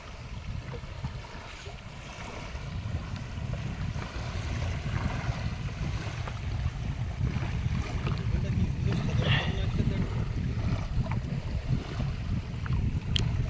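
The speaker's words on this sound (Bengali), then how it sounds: "একটু হাওয়া হচ্ছে আর নদীতে তুফান হচ্ছে খুব।" Blustery wind and rough, stormy river water surround a large fishing boat near a river char on the Garal river, making a steady, continuous low rumble with roaring gusts throughout.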